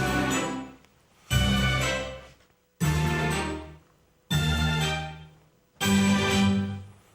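Five separate bursts of a rich, chime-like multi-tone loudspeaker calibration signal containing frequencies from about 200 to 7,500 Hz, each ringing out and decaying, with short silent gaps between them.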